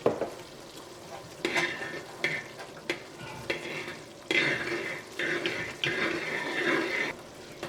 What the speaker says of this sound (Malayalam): ഏലക്കായയുടെ പൊടിയും ജീരകത്തിൻ്റെ പൊടിയും ഈ പായസത്തിൽ നന്നായിട്ട് മിക്സ് ആവണം